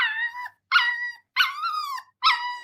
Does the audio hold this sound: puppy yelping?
yes